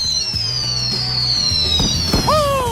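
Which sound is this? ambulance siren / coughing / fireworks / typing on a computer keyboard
fireworks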